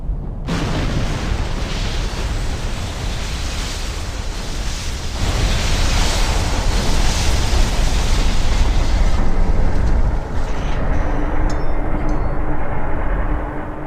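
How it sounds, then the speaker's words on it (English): A mine explodes against the starboard side of the ship Britannic beneath the bridge in the Kea Channel, a loud, sustained roaring rumble that swells midway and then trails off. "The explosion had struck the Britannic's starboard side underneath the bridge area."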